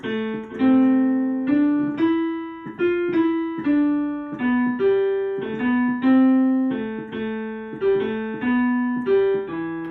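A plucked, sustained melodic line in the natural minor scale, notes ringing one after another at a steady pace with no voices.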